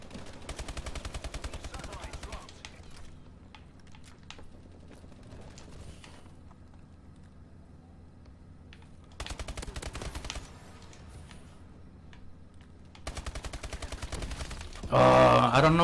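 Rapid bursts of automatic gunfire from Call of Duty Advanced Warfare's Uplink mode on Xbox One, with loud sustained volleys at the start, middle and end, quieter sporadic shots in between, and a final louder explosive blast.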